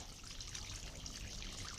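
Water trickling and soaking into a freshly watered planting hole around a transplanted hydrangea in a garden, a soft steady dribbling hiss that stays low and even throughout.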